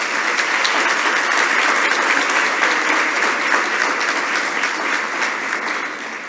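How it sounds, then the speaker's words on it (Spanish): Conference audience applauding the emergency coordination centre staff, a dense, steady roar of many hands clapping throughout, close and loud, tapering slightly at the end. "Por favor, un aplauso para los compañeros del centro coordinador."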